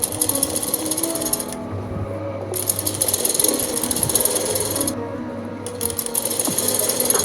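A sewing machine stitches a sleeve lining in a rapid, steady mechanical chatter, close and continuous, with brief pauses and a low motor hum underneath.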